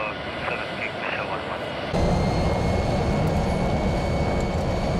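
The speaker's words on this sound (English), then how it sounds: "The doors close on the private Airbus 319, and Shackleton's whiskey is cleared for takeoff" A private Airbus 319 jet roars on the runway during takeoff, its engines surging to a loud steady thrust after a quieter start, with a voice talking in the background.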